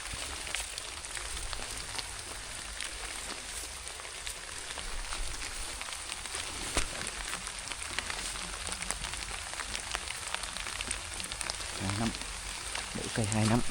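Cold rain falls steadily on a coffee plantation, a dense close hiss of drops that continues throughout, with a few faint voice-like sounds near the end.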